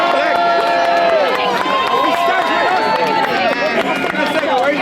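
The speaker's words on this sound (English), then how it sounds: "Let's give Prandeep a big cheer." A crowd at a ULEZ protest on Downing Street in London cheers and shouts loudly and continuously, many overlapping voices close by.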